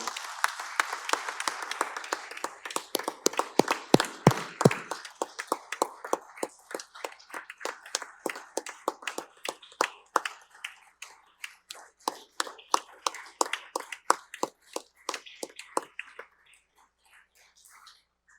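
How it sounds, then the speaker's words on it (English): Applause for a former governor at a state-of-the-state address, dense crowd clapping at first, then thinning into scattered individual claps that trail off toward silence near the end. "Please join me in a round of applause to pay tribute to this remarkable leader, the first woman governor of our state."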